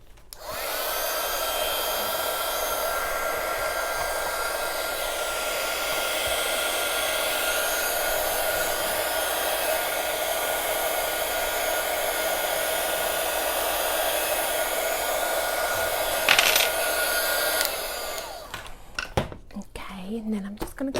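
Hair dryer drying ink on a stamped craft card, a continuous close roar with a thin whine that holds for most of the stretch, then stops with a few handling clicks and soft sounds afterward.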